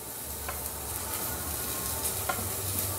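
Beans, tomatoes and spices sauté in a pan for khichri, a dense continuous sizzle with light scraping from stirring, close and steady.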